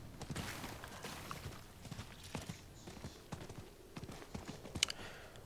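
Horse hooves clip-clopping at a steady riding pace in the Diablo 4 video game, a quiet, even run of hoof knocks lasting throughout with a slightly sharper hit near the end.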